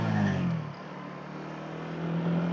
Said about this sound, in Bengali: মোটর সাইকেল যাইতেছে যে এটি অনেক বেশি।